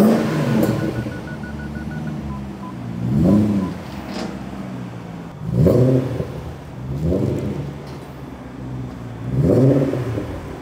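A BMW 7 Series fitted with a new exhaust revs in several rising, throaty bursts, each swell dropping back to a low idle rumble between the pulls.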